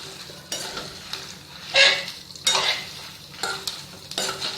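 Tamarind and garlic frying in a pan while being stirred, with a soft continuous sizzle broken by several scraping strokes of a utensil against the pan, close and moderately quiet.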